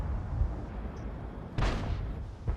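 A World of Tanks cannon shot from the ELC AMX bis light tank goes off as a sharp, loud boom with a short rumbling tail, followed moments later by a smaller thud, with no talking.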